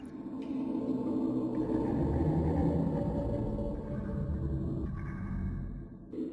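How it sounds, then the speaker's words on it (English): Foxy the animatronic hums in the FNAF fan game A Shadow Over Freddy's, a low, droning hum that swells and fades steadily for several seconds with faint eerie tones above it, alone without talk. "we do hear Foxy humming in the background to know when he's close"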